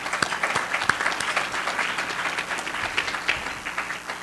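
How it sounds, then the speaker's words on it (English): Audience applause at the TiEQuest 2012 awards gala, a steady wash of many hands clapping with a few sharper individual claps standing out, sustained and moderately loud throughout. "If I could get another round of applause."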